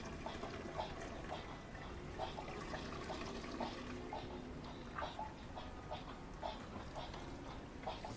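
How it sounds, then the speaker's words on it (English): Hot wort drains from a brew bag during a home brew day for a dark winter saison, making a steady faint trickle and splash, with small drips and gurgles scattered through it and no talking. "I'm just going to let it drain like this."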